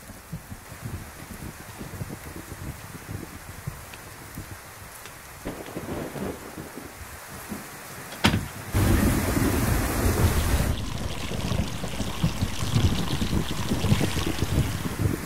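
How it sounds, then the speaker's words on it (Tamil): Heavy rain pours in a steady, dense roar, broken by a sudden close thunder crack partway through, after which the downpour grows louder and keeps drumming without pause. "என்ன மழை இப்படி பெஞ்சுக்கிட்டே இருக்கே?"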